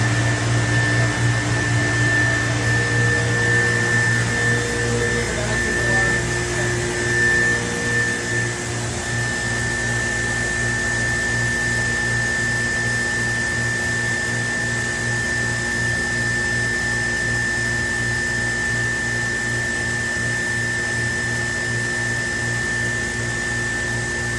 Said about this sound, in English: vacuum simulation.